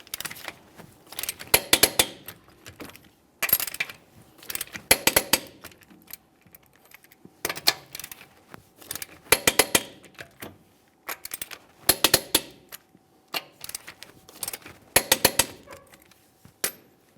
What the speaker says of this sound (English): we'll torque each of these in a crisscross manner to 130 foot-pounds